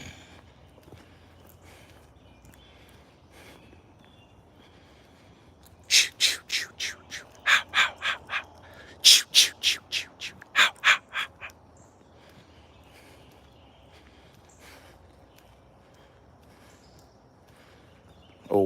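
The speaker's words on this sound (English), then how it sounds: "Oh wow, the birds never stop chirping." In a quiet outdoor setting, a burst of about a dozen sharp bird calls comes in a quick, uneven rhythm, then fades back to near silence.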